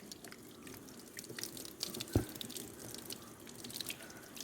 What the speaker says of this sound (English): I'll just pour some running water on it so you can see how it cleans up.